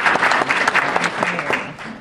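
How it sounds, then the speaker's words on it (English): Applause from an audience at a conference session, a dense continuous clatter of many hands filling the short stretch, fairly close and steady. "So I think we need to give every one of them a big round of applause."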